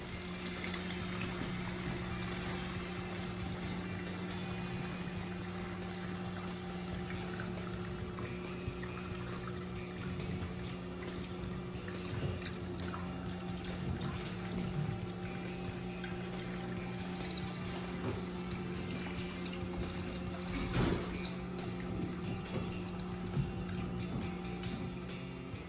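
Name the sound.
draining water from a saltwater aquarium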